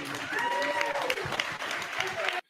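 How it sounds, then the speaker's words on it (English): A crowd claps during a tense street confrontation in which a man is about to be arrested, steady applause with overlapping voices and shouting layered over it, ending abruptly. "The crowd is clapping because he's about to get arrested for doing absolutely nothing against the law."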